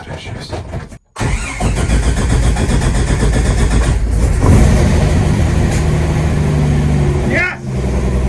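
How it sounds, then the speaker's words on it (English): A car engine cranks after the key is turned, catches and settles into a loud, steady running rumble with a brief cut near the start. A person speaks over the engine. "At the end of day number 2, it came time to turn the key."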